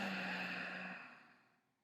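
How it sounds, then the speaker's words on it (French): One soft, breathy exhale during a yoga breathing exercise, close and quiet, starting full and fading gradually into silence. "Expire en 2 fois."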